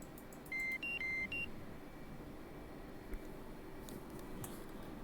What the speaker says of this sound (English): Why are you beeping at me?